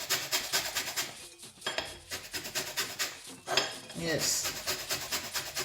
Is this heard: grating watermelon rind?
yes